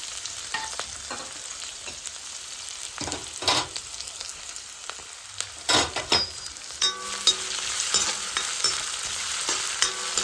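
Fennel seeds, ginger, garlic and green chillies sauté in hot oil, giving a steady close sizzle broken by intermittent scraping stirs and louder bursts, with no speech.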